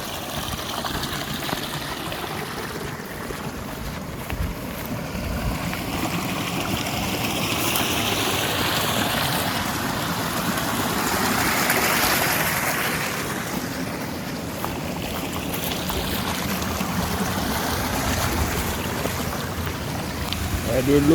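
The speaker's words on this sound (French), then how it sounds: "Et là on longe un ruisseau." A mountain stream rushes along a hiking trail on the Mangiarde loop, a continuous broadband wash of flowing water with gentle swells in intensity, close and steady throughout.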